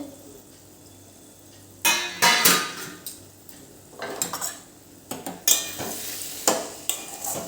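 Green aubergine oro being stirred in a cooking pan, a spoon scraping and clattering against the metal in irregular bursts over a soft sizzle, close and fairly loud.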